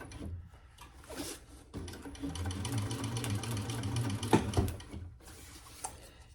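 A sewing machine bastes fabric for a divided basket in a quick, rapid-fire stitching whir, close and clear, starting and stopping in short runs with a couple of clicks.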